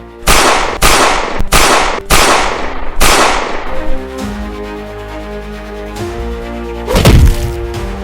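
A rapid series of five loud, sharp gunshots rings out in close succession, followed by a ringing tail and one more blast later.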